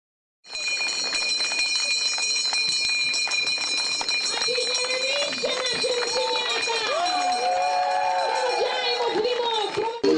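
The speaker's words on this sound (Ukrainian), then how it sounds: "Сьогодні шкільний дзвінок востаннє пролунав для понад сотні учнів обласного ліцею інтернату." A school bell rings continuously at a last-bell ceremony for students of a regional boarding lyceum, a loud, sustained metallic ringing with people talking over it throughout.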